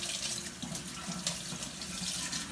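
Steady stream of water running from a kitchen tap while food and a cutting board are washed in the sink, a constant close splashing hiss with no voices.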